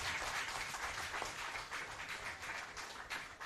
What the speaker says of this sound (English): So give claps on for yourself